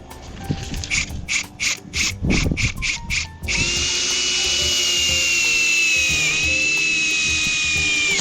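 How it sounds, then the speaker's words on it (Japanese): A power drill drives tapping screws into a metal arch pipe while a greenhouse frame goes up: several short bursts of whirring with pauses between them, then one long steady whine that continues to the end. "パイプにですね、タッピングビス打っていきたいと思います"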